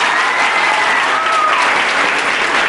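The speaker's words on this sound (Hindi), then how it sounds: "साजिद अली साहब को एक बार ज़ोरदार तालियां मारिए सब लोग" Brief burst of steady crowd applause at a ganja awareness program, loud and dense clapping from a gathered audience, with a faint voice-like tone sliding through the middle.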